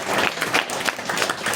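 A church congregation breaks into applause, dense and steady for under two seconds.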